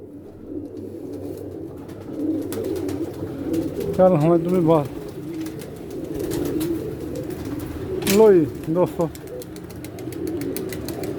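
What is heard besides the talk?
pigeons cooing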